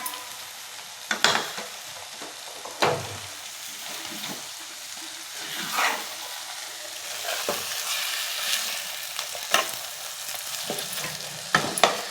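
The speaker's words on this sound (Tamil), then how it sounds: "இப்போ மாமா கருவேப்பிலை கொத்தமல்லி போட்டு கிண்டிக்கலாம்" Chicken gravy with curry leaves and coriander sizzles steadily in the pan while a spoon stirs it, giving repeated scraping strokes against the metal over a continuous frying hiss.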